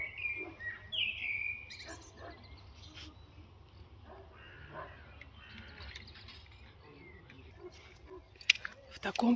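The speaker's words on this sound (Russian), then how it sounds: "Давайте я помолчу, вы послушаете птичек." Birds chirp and call outdoors in a scenic natural spot, scattered tweets near and far over a low, steady ambient rumble, with occasional sharper calls toward the end.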